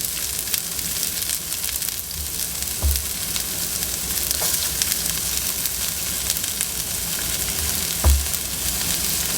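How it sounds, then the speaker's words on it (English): Chopped vegetables and parsley frying in a hot pan, a constant loud sizzle with occasional soft clunks of stirring, no voices. "Now that our pan is hot, we're gonna add all of our chopped vegetables to it, along with our parsley."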